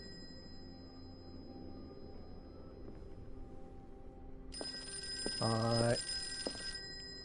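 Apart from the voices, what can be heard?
telephone ringing in a video game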